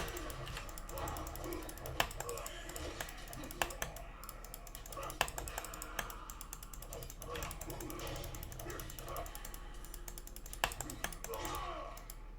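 Rapid computer mouse and keyboard clicking during a Diablo 4 gaming session, a steady dense patter of clicks and key taps running throughout over a constant background hum of game audio.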